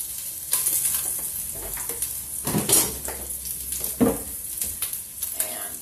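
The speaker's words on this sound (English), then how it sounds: "I'm going to throw just a little bit more olive oil in here." Olive oil sizzling and crackling in a hot pan while cooking Italian country style ribs, a close steady hiss broken by a few louder pops and clatter of pan and utensil.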